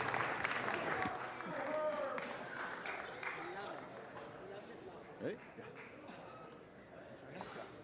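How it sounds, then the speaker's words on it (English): A round of applause from the audience at a city council meeting, dense and steady for a few seconds before thinning out, with voices and crowd chatter mixed in underneath. "give them another round of applause"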